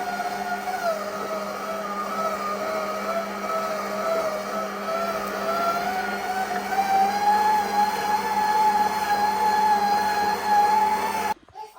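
A dough kneading machine runs with a steady motorized whine whose pitch rises gradually as its speed is increased, then cuts off abruptly near the end.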